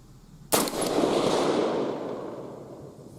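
A single rifle shot fired at a 200-yard silhouette target through a Primary Arms PAC4x scope with an ACSS 5.56 reticle: one loud, sharp crack, followed by a long rolling outdoor echo that fades slowly.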